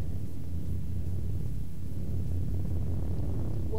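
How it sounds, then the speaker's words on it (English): A thunderstorm rumbles in the Sega 32X video game Kolibri, a deep continuous roar with a dense low rumble that holds steady throughout with no voices. "There's a storm."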